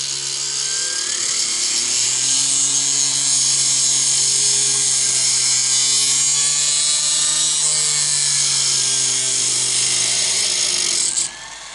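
Dremel cut-off wheel slicing through a small pencil part beside a lathe, a loud continuous high-pitched whine holding steady for about eleven seconds before cutting out abruptly.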